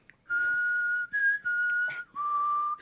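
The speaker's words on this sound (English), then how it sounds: "I'll whistle it." A person whistles the carol Silent Night, a clear, close, pure tone carried over several sustained phrases with short breaks between them.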